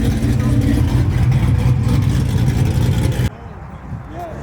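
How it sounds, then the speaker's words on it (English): A 1000+ horsepower C7 Stinger rolls out at a crowded car meet, its deep engine rumble loud and close for about three seconds before it drops away to quieter background noise. "The 1000+ horsepower C7 Stinger rolling out."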